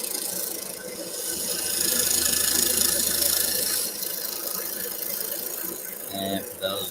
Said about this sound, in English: that sound you're hearing in the background is my dust collector.